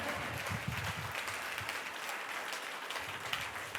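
Congregation clapping steadily at a Sunday church service, a dense wash of hand claps lasting throughout with no voice over it.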